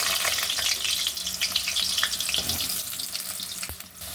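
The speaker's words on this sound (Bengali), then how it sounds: "এবার আলু কটা আগে ভেজে নেব।" Potatoes fry in oil in a wok, close and loud, a dense crackling sizzle with occasional stirring clatter over about four seconds, no voices.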